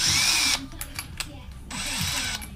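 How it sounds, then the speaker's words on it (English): A milling machine drills metal, whining steadily, then spins down into a quieter stretch with a few clicks before the high-pitched drilling whine returns. "Now let's see if we can get this drilled and tapped"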